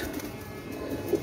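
Pakistani fancy pigeons in a loft give low, throaty coos, a faint steady murmur with a couple of slightly louder coos near the end.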